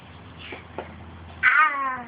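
A house cat meows once, loud and close with a rising, drawn-out call near the end, after a few soft thumps and quiet background noise while people nearby coax a child.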